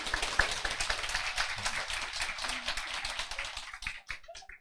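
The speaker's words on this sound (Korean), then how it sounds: "우리 김종만 사장님도 박수 한번." An audience claps together during a health management class, a dense burst of applause that keeps going for about four seconds, then thins to a few scattered claps.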